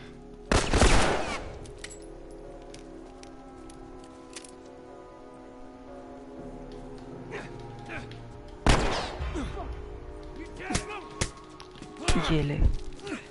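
Gunfire in The Last of Us Part 4 video game, a few loud isolated shots spaced seconds apart over game ambience, with talk present.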